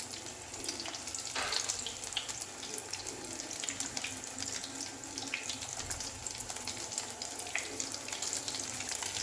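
Soya poha tikki patties frying in a pan give a steady, close sizzle with a constant hiss and small crackles, and no one speaks.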